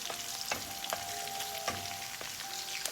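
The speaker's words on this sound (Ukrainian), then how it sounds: "В пательню ми вкрішили цибульку" Onion fries in a frying pan with a close, steady sizzle, broken by a few sharp clicks and scrapes of stirring; no one talks.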